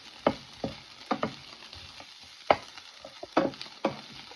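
A taco shell frying in a pan: scattered sharp pops and crackles over a soft, steady sizzle, heard close with no talking.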